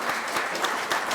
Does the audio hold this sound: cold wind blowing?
no